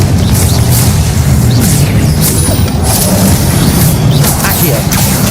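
A Confringo blasting spell goes off in the Hogwarts Legacy video game, a loud, dense explosive roar with booming low rumble and crackling bursts throughout, while a voice speaks over it.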